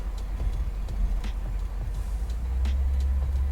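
A 1964 Cadillac convertible with an LT1 engine swap and air-lift suspension cruising on a hot Florida street, with a steady low engine and road rumble and faint ticks and knocks from the ride.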